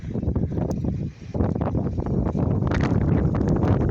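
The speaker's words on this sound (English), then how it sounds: "there's the wind and the snow" Steady outdoor wind roars and buffets around a 1983 John Deere 401B tractor in falling snow, a continuous gusty rush with a brief lull before it picks up again, with no talk.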